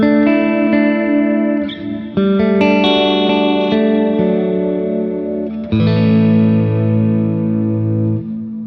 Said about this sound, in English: This is a hall reverb.